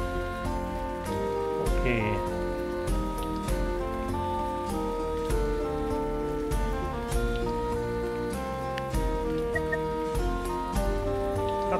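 Rain falls in the pixel-art survival game Dot Age as a steady patter mixed under layered game music, with someone briefly speaking.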